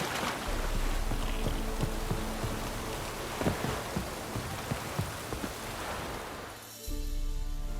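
Steady rain hisses and patters in The Witcher 3 open world, a dense wash of drops with scattered sharper taps, fairly quiet and uninterrupted, with no one speaking.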